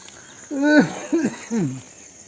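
Crickets chirp steadily in the background, a continuous high trill, while a voice speaks over it in a few short phrases.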